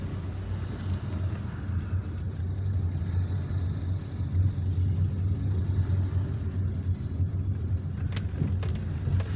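Car traffic heard from inside a car driving through the Harrach neighbourhood of Algiers, a steady loud low engine and road rumble with other vehicles passing close.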